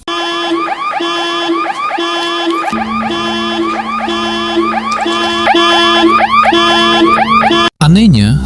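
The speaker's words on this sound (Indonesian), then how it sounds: "mobil itu kembali mengeluarkan suara alarm" A car alarm blares loudly and close, cycling through a rapid repeating electronic whoop pattern that shifts pitch partway through, then cuts off briefly before a different warbling tone begins.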